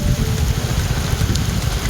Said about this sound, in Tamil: திருவள்ளூர் மாவட்டத்திலும் பரவலாக மழை பெய்தது.